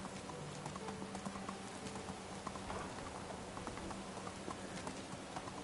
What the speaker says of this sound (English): Come on, donkey.